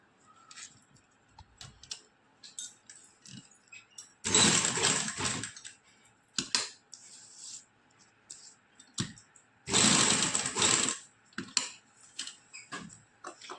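A sewing machine stitching the neckline of a kameez, with two short bursts of rapid stitching a few seconds apart amid quiet clicks and fabric handling close by.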